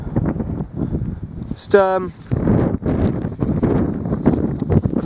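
Wind gusting across a mountain ridge in the Brecon Beacons, a steady low rumble of buffeting against the microphone, with someone talking over it and a brief tonal squeak partway through.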